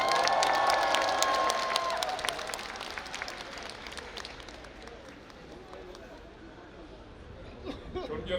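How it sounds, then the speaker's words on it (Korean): Crowd applause and cheering at a political party campaign launch rally outdoors at Gwanghwamun, loud at first and then fading to a murmur of chatter, with a voice over a loudspeaker early on. "큰 박수 부탁드립니다"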